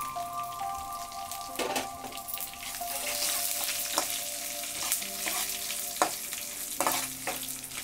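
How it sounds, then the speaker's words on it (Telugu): Dried red chillies and coriander seeds frying in a pan, an even crackling sizzle with repeated stirring scrapes and sharp clicks of seeds popping against the metal, close and moderately quiet. "ఎండుమిర్చి ధనియాలు అవి వేగినాయి"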